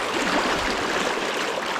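Riffly stream water rushes steadily over boulders, a close, loud, continuous wash with no breaks and no voices.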